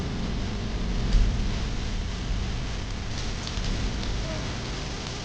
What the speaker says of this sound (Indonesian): Hujan ya?